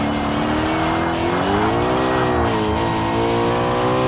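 A Koenigsegg racing at Silverstone in the video game Forza Motorsport, its engine note holding a loud, steady high-revving drone that rises and falls slightly through gear and speed changes, with a hint of tire squeal and no talk.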